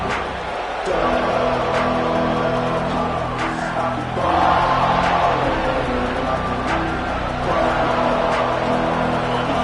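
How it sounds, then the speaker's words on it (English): A packed football stadium crowd roars steadily and loudly throughout, with swelling cheers and whoops that rise a little midway, while a commentator's voice sits faintly under the noise. "The roar on the crowd trying to fuel this defense to keep them pinned in their own end."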